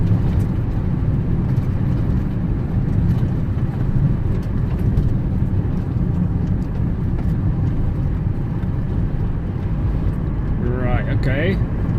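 Fiat 500 Dualogic with a fault that makes it jump out of gear, out on a road test drive; a steady low engine and road rumble from inside the cabin, continuous and fairly loud.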